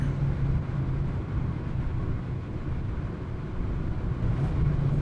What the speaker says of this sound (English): Heel toe downshift.